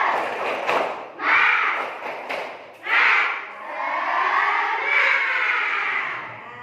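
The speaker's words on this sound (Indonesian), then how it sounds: "Ya, mulai tepuk semangat." Schoolchildren in a classroom perform a rhythmic spirit clap chant, loud bursts of group clapping and shouted chanting in uneven phrases, close and energetic, with no separate speech.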